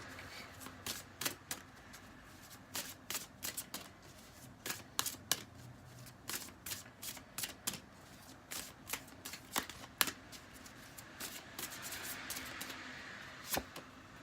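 Cards from a Dreamer's Journey tarot deck being shuffled, a steady run of crisp riffling snaps and soft slides close up, repeating in quick bursts over a quiet room without talk.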